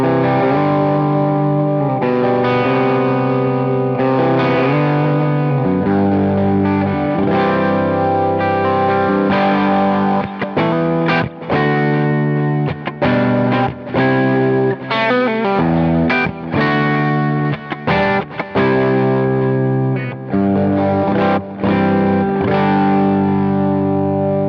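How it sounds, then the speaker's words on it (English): An electric guitar runs through a MR JAX overdrive pedal set to lower gain, playing mildly distorted chords and riffs with sustained notes and brief choppy pauses, loud and alone without any talk. "I think that's a very convincing distortion and an overdrive pedal in one"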